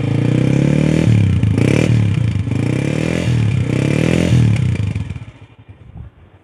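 Road Prince 125 motorcycle engine revving up and down in three rising pulls, loud and close, then dropping away to a quieter idle.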